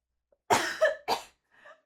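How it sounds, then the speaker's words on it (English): A person coughing after choking on a sip of water: two or three harsh, close coughs in quick succession, followed by a fainter throat-clearing rasp, with silence around them. "I need to cough."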